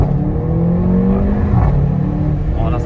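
A Mercedes CLA45 AMG in Sport Plus mode with manual paddle shifting accelerates, its engine droning steadily from inside the cabin with a rising, shifting tone and a brief change in pitch midway.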